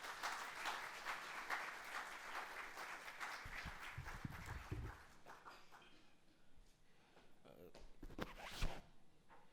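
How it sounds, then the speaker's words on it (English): An audience at an auditing standards seminar breaks into applause, a broad wash of clapping that swells early and thins out partway through, then a few scattered claps and rustles follow. "I request everybody to give loud round of applause"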